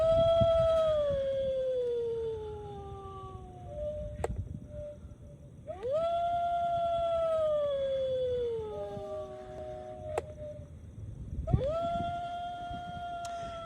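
A Halloween skeleton dog decoration gives three long electronic howls, each rising and then sliding down in pitch, with short pauses between them.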